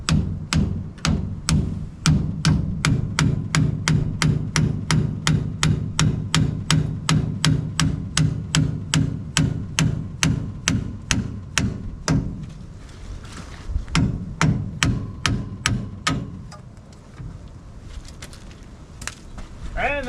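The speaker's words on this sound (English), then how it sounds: "That's gonna take a hammer." Repeated hammer blows knocking a seized disc brake caliper off a 14 bolt axle, a steady fast series of loud metallic strikes that slows and grows uneven near the end.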